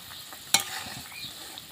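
Fried fish cooking in a curry in a pan gives a soft, quiet sizzle with a single sharp clink of a utensil near the start, no voices.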